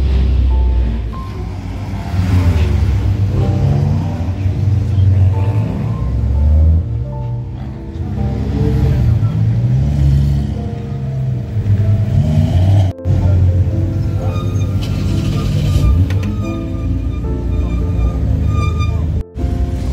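Race cars of one category, a BMW M240i, a Midjet and a Cupra, pull away at the start at Spa-Francorchamps, making a loud, sustained rumbling engine roar with rising and falling revs and no voices.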